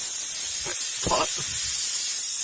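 Air hisses out of a tire valve stem in short bursts, a close, airy spray against a steady background hiss, with no talking.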